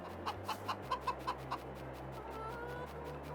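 Chickens in a coop in Farming Simulator 22, a quick run of about eight rhythmic clucks close by, then a soft low hum of background ambience.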